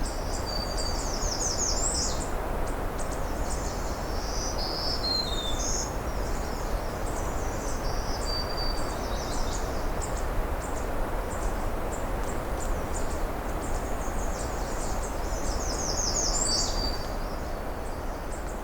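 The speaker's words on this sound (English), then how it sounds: "Of course, lots of redstarts here too." American redstarts and other birds sing in a June woodland, with high chirping phrases repeating through the clip over a steady, dense insect drone and faint background hiss.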